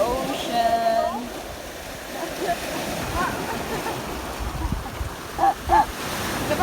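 Ocean waves wash in a continuous broadband rush on the beach at Punta Bulata, Cauayan, Negros Occidental, with faint voices and brief tonal calls over the surf.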